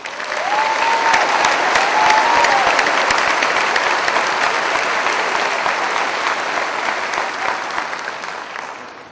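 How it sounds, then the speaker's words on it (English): Audience applause at a Texas Department of Public Safety trooper training class graduation ceremony, a loud, sustained crowd clapping that fills the whole stretch and tapers slightly toward the end. "Let's give them a round of applause"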